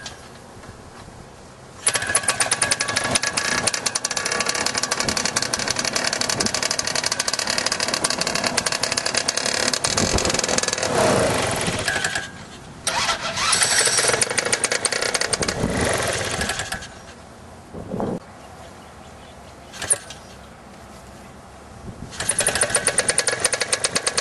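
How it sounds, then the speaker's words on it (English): A Simonini paramotor engine is started by flicking the propeller, then runs in loud bursts of buzzing two-stroke revving, dropping back to lower idle between runs, with brief throttle blips near the end. "the minute you flick the prop, the motor is going to take off"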